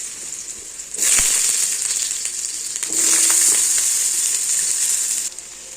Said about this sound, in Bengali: তেল গরম হয়ে গেছে, এবার আলুগুলো দিয়ে দেবো।